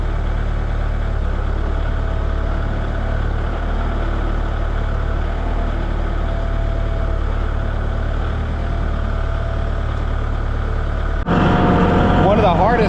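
A low, steady engine rumble runs continuously, rising louder and rougher near the end as the machine works harder.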